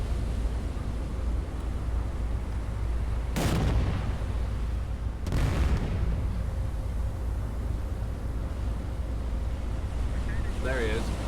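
Naval guns firing in the warship game Battleship Command, two heavy booms spaced a couple of seconds apart over steady wind and sea rumble, with a voice talking throughout.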